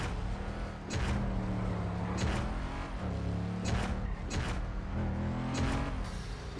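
Racing cars driving in a video game, engines droning steadily with repeated whooshing passes and rising revs, loud and continuous with no talk.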